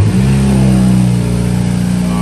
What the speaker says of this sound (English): I'm gonna go ahead, first start up.